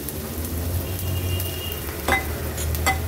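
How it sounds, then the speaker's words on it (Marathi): A steady sizzle of a spice tempering with turmeric frying in oil in a pan, with a couple of brief metallic scrapes from stirring. "फोडणी व्यवस्थित आपल्याला मिक्स करून घ्यायची आहे।"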